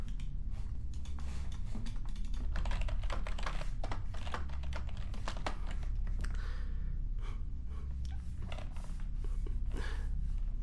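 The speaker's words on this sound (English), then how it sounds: "We're on a spaceship and I'm using a keyboard." Steady, rapid typing on a computer keyboard in a fluffy dragon's spaceship lab, a dense run of close, crisp key clicks with no talking over it.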